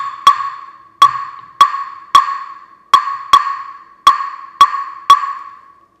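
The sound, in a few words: clave wood block rhythm pattern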